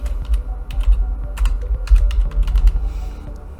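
Computer keys are tapped in quick, irregular bursts of light close clicks over a loud, steady low hum, with no voices.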